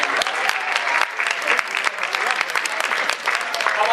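Steady applause from a crowd at a multicultural holiday celebration in Cleveland, dense clapping that holds at an even level throughout without a break.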